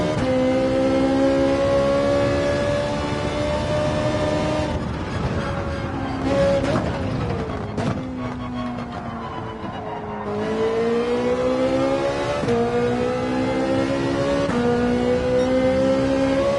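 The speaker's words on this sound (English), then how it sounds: "V8 like this Ferrari 458 has screaming behind you." Ferrari 458 V8 engine screaming in Gran Turismo 7 on the Dragon Trail circuit, a loud continuous high-pitched wail that rises through the revs, drops sharply on several gear shifts and climbs again, with brief tire squeal.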